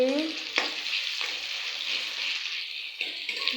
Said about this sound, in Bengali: तेजपाता फोड़न दिएছি পেঁয়াজ ফোড়ন দিয়েছি